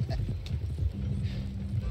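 Horse hooves clip-clop at a steady trot in the Red Dead Redemption 2 video game. The hoofbeats sit close and fairly loud under a busy mix of game sound.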